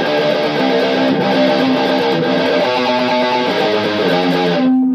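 A dense, distorted guitar riff from the verse of a song chugs steadily with repeating low notes, loud and continuous throughout, no talking.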